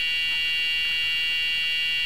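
A continuous electronic buzzer sounds at one steady pitch for the whole stretch, a flat unbroken tone.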